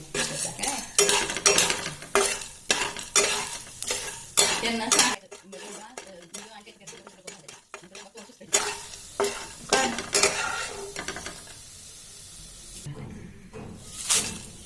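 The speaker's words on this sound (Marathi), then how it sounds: "तमालपत्र आहे तीही भाजून घ्यायची आहे" Spices are dry-roasted and stirred in a metal pan for Kolhapuri onion garlic masala, with rapid scraping and clattering strokes close up, a short quieter pause midway, then more stirring.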